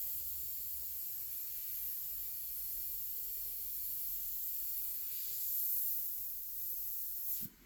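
Steady airbrush hiss spraying white and blue paint onto a T-shirt, a constant airy rush that swells slightly near the end before cutting off abruptly.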